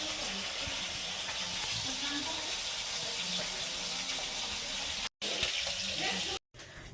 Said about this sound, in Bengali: তো এই যে মাছগুলোকে ভাজছি